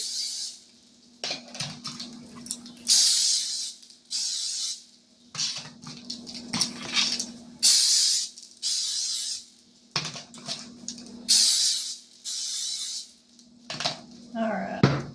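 Cooking spray is sprayed while cream horns are being made. There are several short, sharp hissing bursts with pauses between them, plus faint kitchen clatter.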